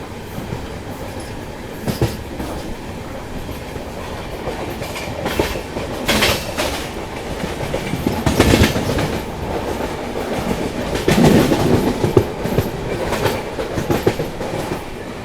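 The Janmabhoomi Express, running with push-pull locomotives, rolls steadily along near the Musi River, with a continuous rumbling drone and rhythmic clickety-clack of wheels over rail joints heard from inside the train.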